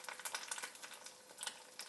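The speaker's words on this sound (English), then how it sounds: "Can you hear that sizzle?" An egg fries in olive oil in a pan set just below high heat, giving a soft, continuous crackling sizzle with quick pops and spits, quiet and close throughout.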